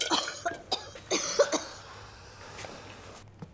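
A person coughs in a tense action scene, several sharp, close coughs in quick bursts over the first second and a half, then quieter rough breaths and a faint final cough.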